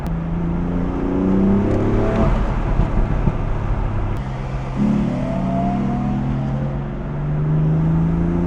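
A BMW M4 spins its wheels in third gear, the engine droning and revving with rising and falling pitch sweeps, loud and close, with no talk.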